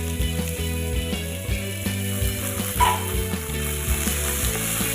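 Chopped tomatoes, carrots and cooked peas sautéing in a pan, a steady sizzle with a rhythmic scraping, ratcheting stir running throughout, close and alone.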